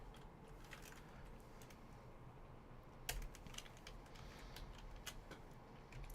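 Quick, uneven clicks of fingers typing code on a computer keyboard, fairly faint, with a steady low background hum and one sharper keystroke midway.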